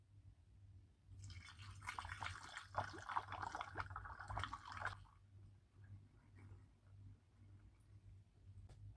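Homemade date wine pours into a bottle with a soft liquid trickle and splashing for a few seconds, over a steady low background hum, then fades to quieter dribbles.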